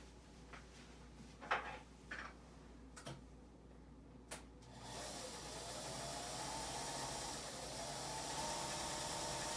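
A sewing machine stitches the last fabric piece, starting with a few scattered clicks and handling knocks before the motor settles into a steady, continuous whir that runs to the end.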